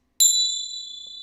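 A single bright notification bell ding strikes once with a sharp attack, then rings on as a clean sustained metallic tone that slowly fades, alone with no talk.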